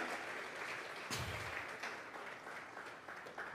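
Church congregation applauding during a Sunday service, with broad, dense clapping that carries steadily through the whole moment, swelling slightly near the start and filling the room at close range.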